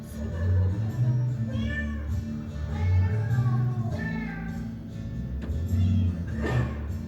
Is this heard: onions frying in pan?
no